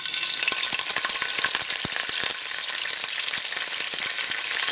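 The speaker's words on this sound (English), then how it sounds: "then the oil heats up, put in some curry leaves" Curry leaves drop into hot oil and crackle: a loud, dense sizzle full of rapid sharp pops that stays steady and close throughout, with no voices.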